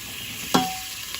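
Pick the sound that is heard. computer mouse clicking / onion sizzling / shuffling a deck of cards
onion sizzling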